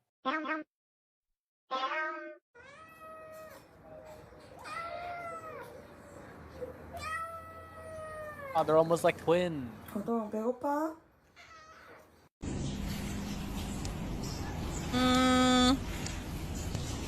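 A cat meows repeatedly in short rising and falling calls, some drawn out, close by, with people talking over and between the cries and a brief louder noisy stretch near the end.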